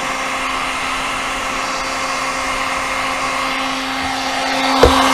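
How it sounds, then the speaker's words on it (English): Heat gun shrinking tubing around a DJI Inspire 1 drone landing gear shock gives a steady, loud, close blowing whir with a constant motor hum, ending in a brief clunk. "heat it up and shrink the shrink around it."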